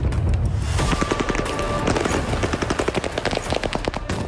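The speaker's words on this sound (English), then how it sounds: "fired at with automatic weapons by invading enemy troops" Rapid bursts of automatic gunfire crackle continuously, loud and sharp, with dense repeated shots and no talking.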